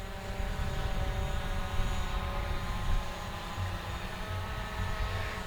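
A Hubsan Zino drone climbing steadily with its propellers whirring in a constant, buzzing hum, fairly loud and close, with no voices.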